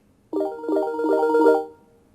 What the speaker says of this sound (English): choose the ringtone that you want as well, and press the play button to hear it out